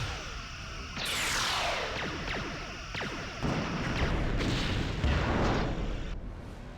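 Phaser fire in the space combat game Star Trek Bridge Commander, with sweeping bursts and rumbling booms that layer into a loud, continuous barrage lasting several seconds.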